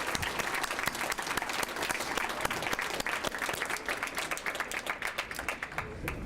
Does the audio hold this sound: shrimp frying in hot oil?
no